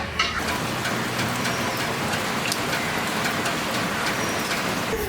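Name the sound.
rain falling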